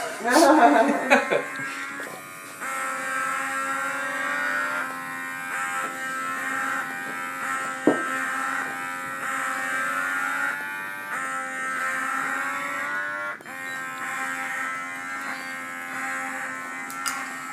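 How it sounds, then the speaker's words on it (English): Several electric cupping massage devices buzz together in a steady, layered electric drone with shifting pitches, close and continuous, with a couple of brief knocks along the way. "when you place all 4 of them on, it sounds like you're in a NASCAR race"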